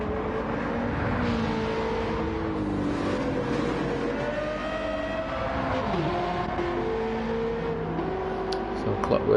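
Race cars including Porsche and Lexus circling the Big Willow track in a 90-mile race, steady engine drone with shifting pitch as cars pass, under continuous commentary.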